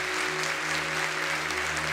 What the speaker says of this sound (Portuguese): Uma salva de palmas à palavra.